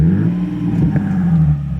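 Nissan 370Z Nismo engine held at a steady 2000 rpm, a loud, even low-pitched drone with a faint whir running throughout, close by and alone, with no voices.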